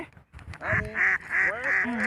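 Wild ducks give a series of loud, nasal quacks close by, several calls strung together with brief gaps between them.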